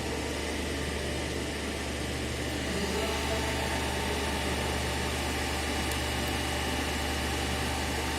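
An electric motor driving an alternator on a direct load test bench gives off a steady, broadband machine hum with a low drone underneath, constant and fairly close, with no speech.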